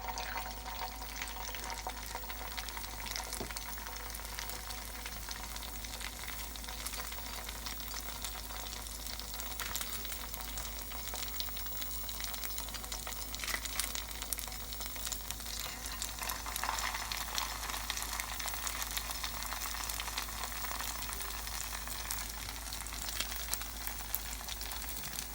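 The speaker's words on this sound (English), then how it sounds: "get your skillet with oil ready for deep frying your churros" Churro batter deep frying in oil in a skillet over medium heat, giving a steady, dense crackling sizzle that runs unbroken throughout with no voices.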